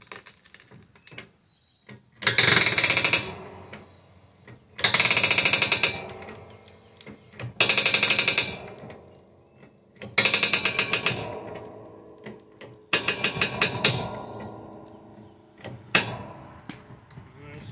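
H&F hydraulic log splitter driving through dried oak, heard as five loud, close bursts of straining engine and hydraulic roar, each lasting about a second, separated by quieter idling gaps.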